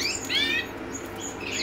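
Newly hatched birds in a reused nest chirp faintly, a few short, high tweets over steady background hiss.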